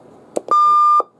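An Alinco DX-10 10-meter radio gives a single clear, steady electronic beep after a reset, sounding alone after a couple of soft clicks.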